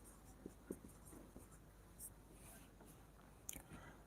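Pen writing on paper during a Class 8 maths lesson, giving a faint, close scratchy scribble with a few light taps, low and steady, with no speech over it.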